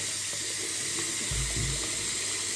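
Running tap water pours over an Einhell power tool battery pack as it is rinsed, a steady broad splashing stream close to the microphone that grows heavier and fuller partway through, with no voices.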